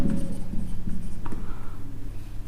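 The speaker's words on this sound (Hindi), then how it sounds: "यहाँ लिख लेते हैं" Steady scratching of writing on a board during a class 12 maths lesson, as a determinant problem is worked out step by step, with short strokes and pauses continuing throughout.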